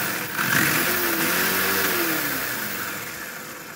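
A Rlaarlo XDKJ-006 electric RC car's motor accelerates, a rising whine that climbs in pitch over a couple of seconds against steady broadband noise, then fades slightly as the run continues.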